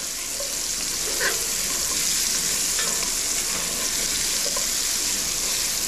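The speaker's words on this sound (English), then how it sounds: "I'm going to let those now saute until they're nicely browned" Mushrooms sauté in a hot pan while being browned for a beef stew, giving a steady, even sizzle with a few light stirring clicks throughout, close and continuous with no talking.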